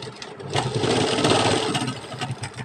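A sewing machine stitches a girl's kaftan top, a short fast run of rapid needle clatter that ramps up, holds, and slows near the end.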